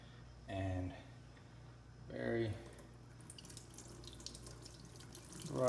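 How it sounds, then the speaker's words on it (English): Boiling water pours faintly in a thin, steady trickle over the scored crease of a glass bottle being cut in half, with short bursts of speech before it begins. "we're gonna take now boiling water"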